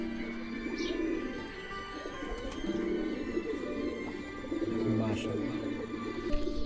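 A fighter pigeon coos in soft, repeated low bursts close by, with faint chirps from other birds and ambient noise around it, and no talking over it.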